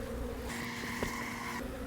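Honey bees humming around a hive after a hard freeze, a steady close buzz with a brief higher drone passing through, no voices.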